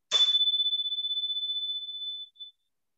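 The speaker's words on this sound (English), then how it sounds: "beginning with the energy chimes and ending with the Timsha symbols" A single energy chime struck once during a quiet Shavasana yoga rest, ringing out as one clear, high, sustained tone that decays slowly over about two seconds before fading away.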